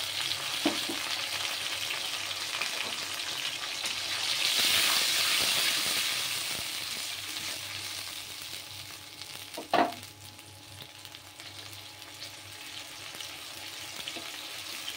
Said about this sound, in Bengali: এই পেস্টটা দিয়ে দিলাম এর মধ্যে।